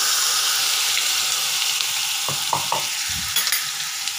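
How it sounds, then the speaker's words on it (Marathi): Chopped onion, tomato and green chilli sizzle in hot oil in a kadhai with asafoetida, a steady loud frying hiss throughout, with a few clinks of stirring near the end. "कांदा, टोमॅटो आणि हिरवी मिरची बारीक चिरून घेतले ते आपल्याला याच्यात आता ॲड करायचं"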